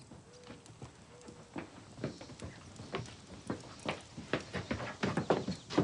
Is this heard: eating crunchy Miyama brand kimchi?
no